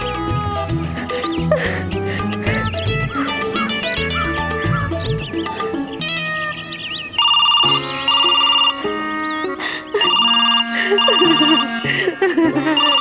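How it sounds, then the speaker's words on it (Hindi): A telephone ringtone plays loud and close in repeated bright melodic bursts with short gaps between them, while voices talk over the first half of the ringing. "फोन आया है, मैंने नहीं उठाया है"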